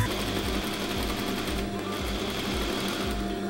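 A sewing machine stitches the seam of a fabric joey pouch, running close up in a steady, rapid mechanical rhythm with repeated low thumps and no one speaking.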